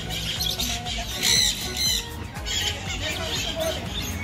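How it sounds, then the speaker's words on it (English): Sun Conure and Jandaya parakeets in a bird park aviary give sharp, close squawks and chirps over constant background bird chatter, with a person talking at times. "So over here you can see our Sun Cornu and our Jandaya on the floor."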